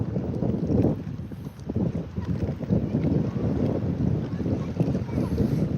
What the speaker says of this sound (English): Wind's starting to pick up again.